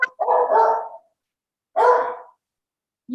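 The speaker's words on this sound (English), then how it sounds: "Let me shut my dogs up." Dogs bark at home during an online township trustees meeting, two loud, near barks separated by a short pause, with no talking in between.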